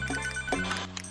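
Electronic telephone ring in the restaurant of the Papa's Freezeria cooking game, a brief repeating chime pattern heard alone and clearly.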